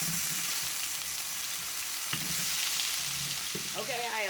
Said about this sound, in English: I have added all my potatoes to the skillet